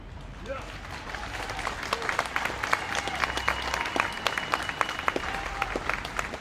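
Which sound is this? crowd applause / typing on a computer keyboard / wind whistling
crowd applause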